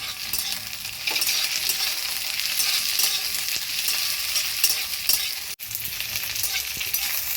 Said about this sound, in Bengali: এবার পেঁয়াজটা যখন হালকা এরকম ভাজা হয়ে যাবে, এর মধ্যেই ক্যাপসিকাম কুচিগুলো পুরো দিয়ে দেব।